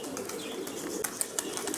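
Pigeons coo and rustle close by while a falcon circles over the flock, a soft steady murmur broken by a few brief sharper chirps or wingbeats.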